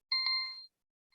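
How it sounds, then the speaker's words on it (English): A mobile phone chimes once with a clear, bright bell-like tone that rings for about half a second and fades, then a faint second chime begins at the end; no talking over it. "I don't know why my phone won't stop ringing."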